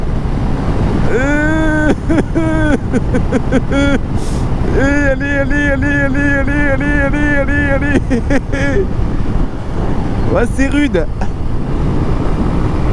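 A 2004 Honda CBR 125 R single-cylinder motorcycle revs and strains uphill, its engine note climbing through gears with loud wind buffeting, while the rider speaks briefly over it.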